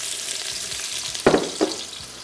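Sliced onion hitting hot oil in a large open pot, a steady frying hiss with two louder bursts of sizzle as the onion goes in, close and with no talking.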